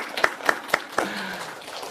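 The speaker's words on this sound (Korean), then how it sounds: "박수 한번 쳐드릴까요?" A church congregation claps a few times in an even, rhythmic beat during a Sunday sermon, four sharp claps close together before the sound fades.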